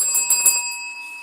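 A small bell rung during a live stream gives a few quick bright strikes whose clear ringing tone lingers and fades out alone, with no talking.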